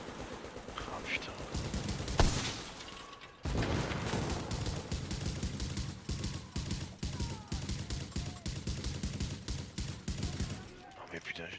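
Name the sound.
gunfire from the video game Tom Clancy's The Division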